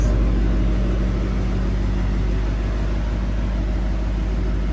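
A 2006 Ford Mustang GT fitted with a performance exhaust and a tune idles with a steady, loud low-pitched rumble and a chugging pulse, running alone without any talk.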